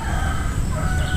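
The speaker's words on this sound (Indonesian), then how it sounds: "Suara manuk bagus amat ya?" A bird, probably a rooster, gives a short loud call close by, a brief strained crowing tone with harmonic overtones and no voices.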